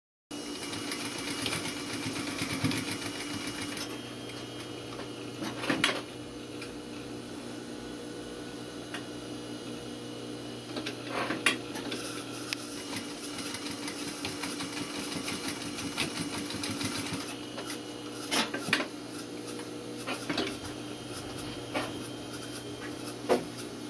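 A sewing machine runs a short back stitch along a garment pocket, a steady mechanical whir with small clicks at the stops and restarts, close and alone at moderate level.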